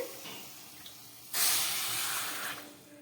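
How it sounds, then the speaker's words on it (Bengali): Two bowls of water poured into a kadai holding a bowl of sugar for syrup, with a sudden rushing hiss that lasts about a second, then fades after a quiet start. "2 বাটি জল দিয়ে দিচ্ছি।"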